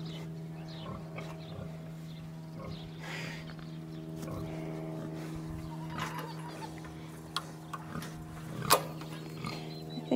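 Piglets grunt softly at intervals over a steady low mechanical hum in a barn, with a sharper squeal-like burst near the end, fairly faint overall.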